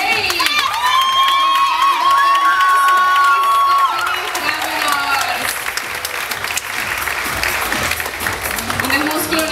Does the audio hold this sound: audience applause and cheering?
yes